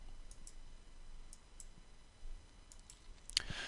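Faint, light computer mouse clicks while working in quoting software, a few soft ticks spread out before one slightly louder click near the end.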